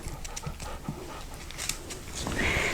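A dog pants heavily and steadily nearby indoors, with a few thin whimpers rising near the end.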